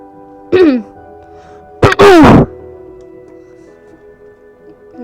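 Two coughs from a person, the first short and the second a harsher double burst, loud and close, against a quiet room with a faint electronic hum.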